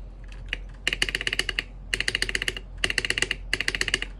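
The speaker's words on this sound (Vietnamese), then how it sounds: "mình sẽ lắp cái thanh bay lại rồi gõ cho anh em nghe" Rapid clacky keystrokes on a mechanical keyboard with the stabilizer bar reinstalled come in four quick bursts with short pauses between, close and crisp, with no talking.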